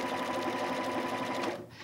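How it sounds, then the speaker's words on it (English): Sewing machine stitching rapidly in a steady buzzing run for under two seconds, then stopping, while finishing a quilting piece. "So when we're all done with that, sew to the end."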